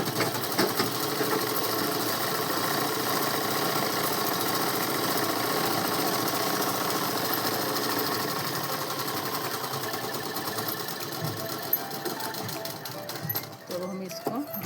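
A sewing machine runs steadily while stitching shalwar fabric, a continuous close whirr lasting nearly the whole stretch before easing off near the end.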